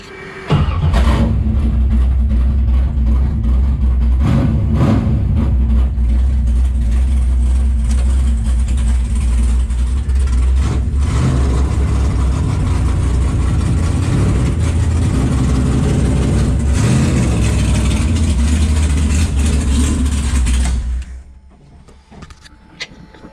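A race car engine runs loud and steady close by for about twenty seconds at race day, its deep rumble holding constant before cutting off abruptly and leaving quiet.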